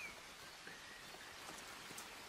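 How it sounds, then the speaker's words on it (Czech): Rain falling beside the Berounka river on a cold day, a soft, even patter of drops on surfaces with scattered faint taps, quiet and steady with no talking. "Prší, což je super,"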